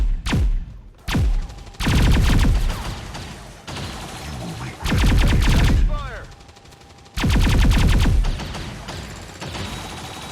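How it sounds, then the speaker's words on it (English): Laser guns firing during XCOM 2 combat: repeated loud, sharp volleys in separate bursts with short gaps between them, and a brief voice under the shooting. "I love these laser guns they're firing about."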